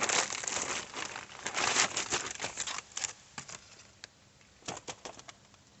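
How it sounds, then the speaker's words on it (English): A plastic bag of brake parts for a 2005 Pontiac Vibe being torn open, with loud crinkling and rustling at first, then scattered softer crackles and taps, close by. "rip open the bag."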